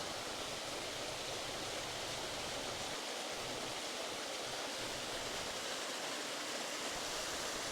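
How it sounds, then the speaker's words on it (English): A small forest-trail waterfall pours steadily, a dense, constant rush of falling water that fills the whole scene without pause or voices. "It seems as if this particular little waterfall is a regular occurrence for sure."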